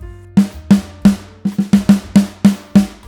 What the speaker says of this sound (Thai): ในส่วนของสแนร์เนี่ยอันนี้คือเสียงสแนร์เดิม